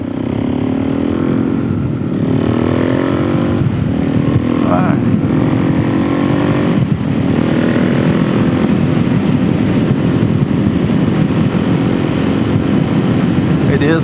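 A Suzuki DRZ 470SM motorcycle being ridden, its engine holding a steady, continuous drone with a few rising and falling revs as it shifts through gears, close and loud throughout.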